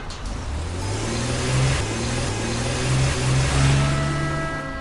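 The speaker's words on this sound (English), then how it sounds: "Any chance you could slow this thing down, Carson? This thing is my car." A car drives at a steady mid-pitched engine hum that swells and eases slightly, close and continuous, with no talk over it.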